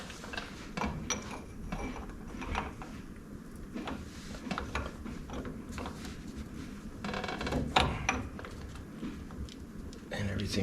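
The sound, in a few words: socket wrench ratcheting while tightening a Jeep brake nut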